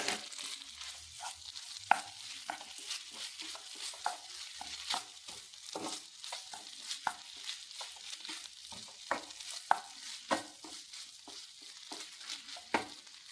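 Rice for green rice is stirred and fried in a pan, a quiet, steady sizzle with frequent scraping clicks of a spoon in an uneven rhythm.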